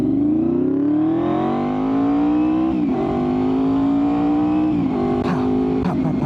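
Honda VFR800fi motorcycle engine revving hard from a rider's point of view, its pitch climbing steadily under load with brief dips at gear shifts, loud and continuous with wind noise, no talking.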